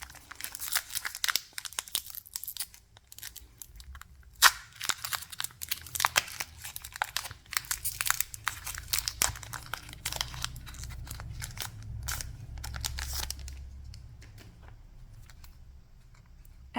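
Packaging on a mini tin is torn and crinkled open, with close, busy rustling, crackling and ripping that comes in uneven bursts and fades toward the end.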